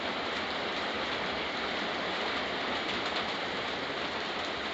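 Steady rain pours down outdoors, a continuous dense hiss with no pauses, fairly loud and even throughout, with no voices heard.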